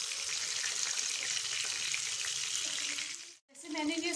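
Chicken mince burger patties fry in oil in a pan, giving a steady, moderately quiet sizzle and hiss throughout that cuts out briefly near the end and then resumes.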